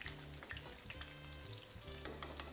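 Eggplant pieces fry in a hot pan, giving a steady, close crackling sizzle with faint stirring noises and no talking.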